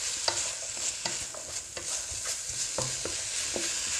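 Pork and spring onions are stirred in a pan with a little water, quiet scraping spoon strokes landing every half second or so over a soft sizzle, no voices.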